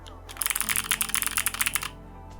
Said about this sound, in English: they do struggle with higher pitch frequencies like my clicky keyboard here